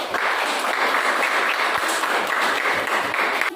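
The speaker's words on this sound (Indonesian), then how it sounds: "berikan tepuk tangan untuk kelompok elit." Steady, dense applause fills a classroom for a student group, a continuous wash of many hands clapping at even loudness throughout, with no voices over it.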